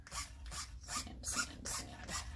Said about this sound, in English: Sand, sand, sand.